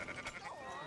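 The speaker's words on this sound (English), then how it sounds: "Fine sheep." Sheep bleat at a livestock auction yard in Red Dead Redemption 2, a few short wavering cries close by in a brief burst.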